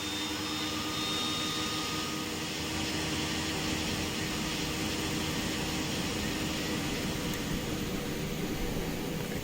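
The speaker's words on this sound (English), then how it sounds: "God, the starter is so loud in this airplane, isn't it?" Loud, steady broadband whine and roar of a light twin-engine airplane's engine starter in Microsoft Flight Simulator 2020, running continuously without pause and filling the whole stretch.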